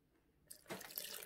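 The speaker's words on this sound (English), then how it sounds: "I think I need to have some little water" A little water is poured into puff puff batter, a short broadband splash that starts abruptly midway and runs on as a steady, close pour.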